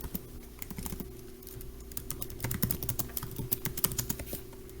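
Rapid keystrokes clatter on a computer keyboard, a close, irregular patter of light clicks that quickens toward the end, with no voices.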